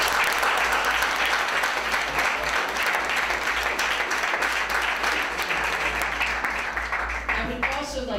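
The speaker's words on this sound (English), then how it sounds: "So I think all of you deserve a round of applause." Steady, full applause from an audience at a recognition program at a museum, dense clapping filling the room and tapering slightly at the end, with a few voices breaking through.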